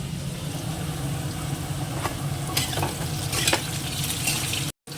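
Food sizzles steadily in a pan as it fries until red, with a few sharper scraping stirs midway and a brief gap near the end.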